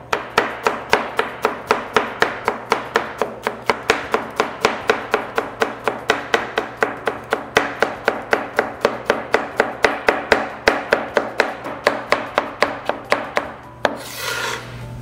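A knife chops small cucumber into shreds on a board, fast even strokes of about four a second, close and crisp, continuing for many seconds before stopping.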